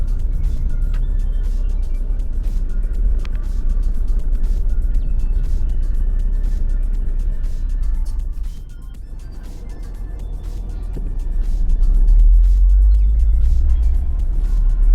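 A vehicle drives over a potholed, barely existent road in a Naxalite-affected border area between Chhattisgarh and Maharashtra, giving a continuous low engine and road rumble from inside, with heavier jolting thumps near the end.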